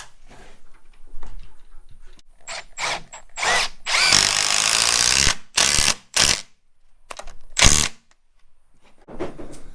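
A power drill drives big-headed screws into a timber frame for a gable, with several loud, close bursts of whirring and a long sustained drive in the middle, separated by short quiet gaps.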